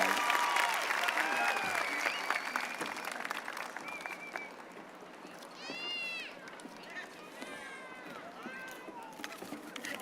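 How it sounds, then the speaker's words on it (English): A crowd at a public school commencement ceremony applauds steadily for about ten seconds, dense clapping with cheers and whoops rising over it, gradually thinning toward the end. "One more round of applause for our valedictorians and those wonderful, wonderful speeches."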